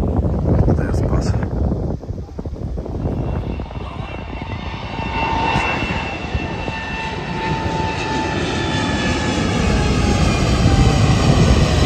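A fixed-wing passenger plane taking off from a runway near a beach, a loud roaring engine rising and sweeping past close by and then holding steady, with people talking underneath.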